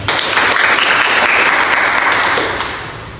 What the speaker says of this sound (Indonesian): Kita beri aplaus dengan kelompok 3.